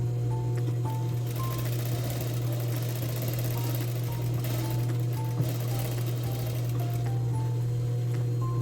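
A sewing machine stitches jeans fabric with a steady, close mechanical whir and hum. Faint clicks and brief tonal squeaks run over it, and no one speaks.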